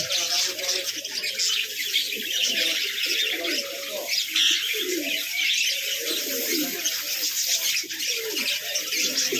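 Many caged birds coo and chirp together in a dense, continuous chorus, fairly close, with the throaty warble of pigeons running throughout.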